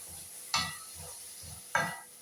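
Potato, onion and coconut paste being stirred in a pan, with a few sharp scraping strokes of a spoon over a steady soft sizzle, close and fairly quiet.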